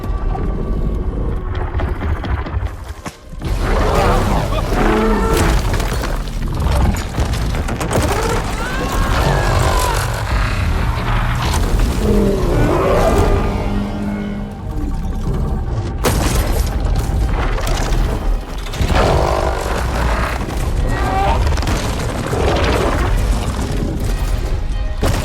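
Cannon fire and explosions in a battle from Horizon Forbidden West, loud booming blasts and crashes mixed with machine groans, dense and continuous with a brief drop before resuming.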